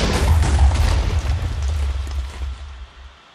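Explosive bullets burst in Minecraft with the Dishonored mod, a loud, deep rumbling blast that rolls and fades over about three seconds.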